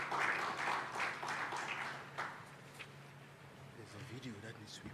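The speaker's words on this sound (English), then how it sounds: "Can we give him a round of applause to welcome him" Convention audience applauding to welcome a speaker, a fairly faint spread of clapping that swells at the start and tapers off, with a voice speaking briefly near the close.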